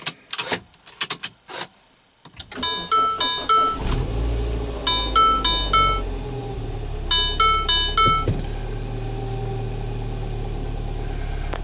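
A 2007 Mini Cooper S R56 after throttle body replacement, with a few clicks and key sounds, then the engine cranks and starts, settling into a steady idle while chimes sound and fade in the cabin.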